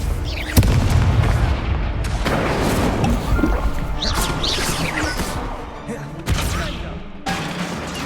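Fire-spell explosions of Confringo in Hogwarts Legacy, loud booming blasts with crackling bursts over a busy combat din, several impacts spread across the stretch, with voices nearby.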